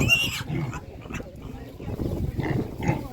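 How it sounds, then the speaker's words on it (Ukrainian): Seven-week-old piglets grunt and snort repeatedly at close range at an animal market while people talk over them. "гарні поросятки ще Такі підрощені дуже"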